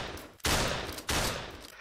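An armed woman fires a gun in the horror game Choo Choo Charles: two loud, close bursts of gunfire in quick succession, each decaying into a noisy tail.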